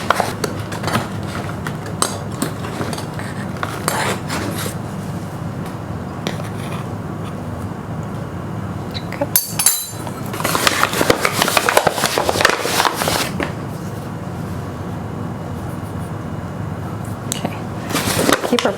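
A measuring cup pressed into a bowl of flour to make a well, with soft scraping and dull knocks of cup against bowl, close and continuous, one louder clatter midway.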